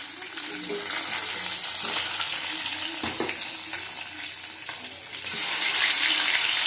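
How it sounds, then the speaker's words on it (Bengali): Pieces of katla fish fry in hot oil in a pan, giving a steady close crackling sizzle with a clatter midway and a louder, brighter surge of sputtering toward the end. "মাছ ছেড়ে দিলাম। মাছটা ভেজে নেব।"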